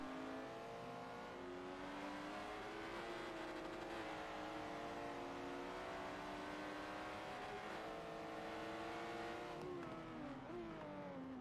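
Race car engines in the Forza racing video game at Sonoma Raceway, a steady loud drone that climbs and shifts pitch, with a brief tire squeal mixed in, continuous throughout.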